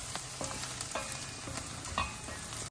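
Onions and spinach fry in a pan for palak paneer, a soft steady sizzle with light stirring scrapes throughout, fairly quiet and close.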